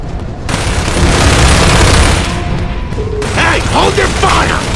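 Combat in the shooter Gears of War 3: loud continuous gunfire and mechanical clatter with booms, close and dense, a voice briefly shouting near the end.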